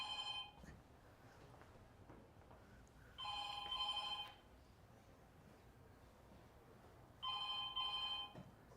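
A telephone bell rings in three separate bursts spaced a few seconds apart, fairly faint against a quiet room, with no talk between the rings.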